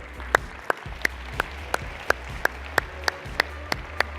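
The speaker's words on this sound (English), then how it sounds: "Let's give her a round of applause." Applause from a conference audience as a speaker is welcomed on stage, heard as a steady rhythm of single, evenly spaced claps over a faint low background hum.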